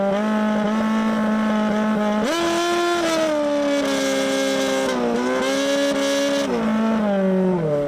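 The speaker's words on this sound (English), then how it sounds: "we are listening to a car playing music here" A Red Bull F1 car engine revs loud and close in sustained, pitched tones that rise and fall to play a melody, each held note shifting smoothly to the next.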